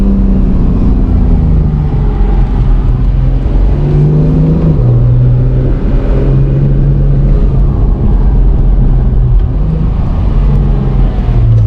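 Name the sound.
2019 Acura NSX engine and turbo accelerating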